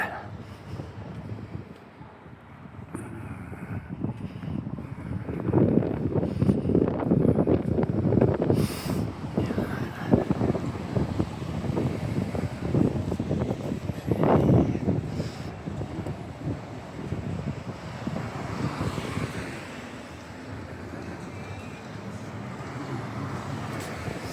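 Wind gusting outdoors on a downtown street at night near Almon and Agricola streets, a broad steady rush that swells through the middle and eases toward the end, with faint traffic-like rumble beneath.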